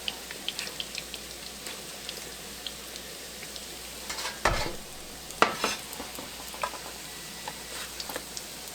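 Zucchini fritters frying in a pan: a soft, steady sizzle with light pops, broken by a few scraping knocks as a spatula slides under and flips them, fairly quiet and without speech.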